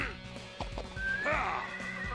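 A horse in the Dynasty Warriors 8 video game neighs in a loud, close whinny over faint hoof clip-clops, with a brief voice nearby.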